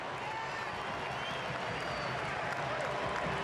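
German fans in a packed football stadium roar and applaud after a goal against the United States, a dense, steady wash of crowd noise throughout.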